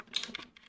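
A short burst of about four or five quick clicking keystrokes on a mechanical keyboard, close but quiet, in a hushed room.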